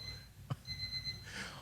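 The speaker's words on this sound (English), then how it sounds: "That's our alarm clock." An alarm clock ringing with a thin high electronic beeping tone, a short thump partway through, the beeping continuing steadily up close.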